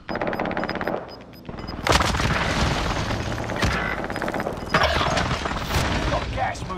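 Airstrike explosions land in a video game, heavy booms and rumbling blasts mixed with rapid gunfire throughout, loud and dense, with a few bursts of voice over the battle noise.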